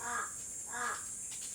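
Two harsh crow caws sound a short distance away, followed by a fainter third call, over a steady high insect-like hiss.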